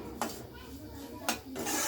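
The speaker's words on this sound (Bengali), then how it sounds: "ভালো করে নেড়ে নিতে হবে" Semolina being stirred in ghee in a pan, with a spoon scraping and clinking against the pan in a few sharp bursts over a steady frying background.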